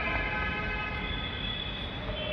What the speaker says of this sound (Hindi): ये मेट्रो स्टेशन है जहाँ खाली खाली अभी है, मेट्रो आ रही है।